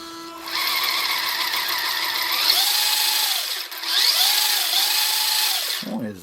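An Enoze 9303E hobby RC car's electric motor whirs steadily and close, with pitch rising and falling as the throttle changes, ending in a brief clatter.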